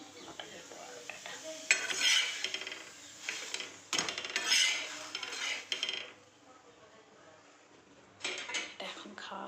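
Pea paratha cooks in a pan with utensils clinking and scraping against it, giving intermittent metallic taps and rustles with a faint background sizzle.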